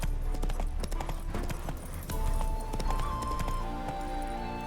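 Roach the horse gallops in The Witcher 3, a steady rhythm of hoof clip-clops up close with a brief whinny. Faint game music plays underneath.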